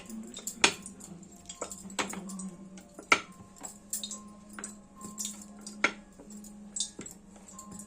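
Bengali doi kachuri dough balls being rolled out one by one with a rolling pin, giving quiet, irregular taps and light clicks over a low steady hum, with no talking.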